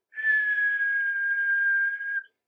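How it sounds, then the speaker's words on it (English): A railway guard's whistle blown loudly by the Fat Controller on a station platform, one steady, shrill, unbroken blast lasting about two seconds, heard alone. "the Fat Controller climbed on a trolley and blew the guard's whistle"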